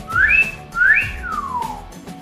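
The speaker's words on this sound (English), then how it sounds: "Can we both whistle?" Two people whistle indoors, starting with two short rising whistles followed by a long falling one, close and clear with no talking over it.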